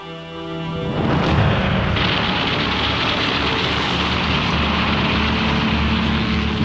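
Imperial Japanese Navy warplanes attacking a US fleet: a propeller-engine roar builds within a second and then holds as a steady, loud drone, broad and rumbling, with no talk.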